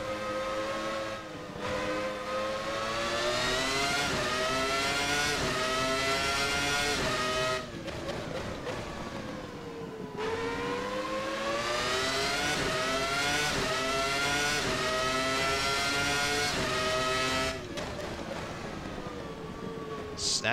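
Williams FW19 Formula One car in a VRC racing sim, its high-pitched engine revving loudly and continuously up and down through the gears, with sharp drops in pitch on each downshift under braking.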